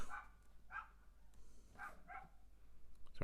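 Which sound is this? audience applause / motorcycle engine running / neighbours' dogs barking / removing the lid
neighbours' dogs barking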